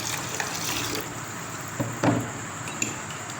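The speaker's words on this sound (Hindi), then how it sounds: "बाउल में डालिए हम बर्फ़ और इसके अंदर हम शामिल करेंगे पानी" Water poured from a tap into a bowl of ice for a moong dal chaat recipe, a faint steady trickle with a few soft clinks and knocks as the pour settles.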